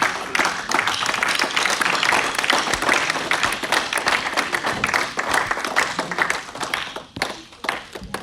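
A church congregation applauds and cheers God, with dense, sustained clapping from a crowd that goes on for several seconds, then thins out toward the end.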